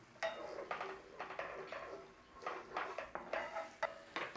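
About a cupful of red wine cooks down in a pan for a lamb chop sauce, a faint sizzle under a string of stirring scrapes and light clinks of a utensil against the pan.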